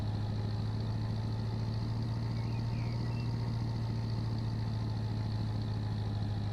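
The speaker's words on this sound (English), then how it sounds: "Wow, do you hear the engine?" Locomotive engine in Run8 Train Simulator, a steady low diesel drone with a constant hum and faint rhythmic throb, even and unbroken throughout with no talking.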